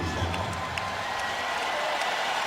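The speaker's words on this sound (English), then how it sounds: "Fans cheer Michael Jordan back in." Arena crowd at a Wizards vs. Lakers NBA basketball game cheering and applauding steadily as Michael Jordan returns from the bench, a broad continuous roar with scattered whoops.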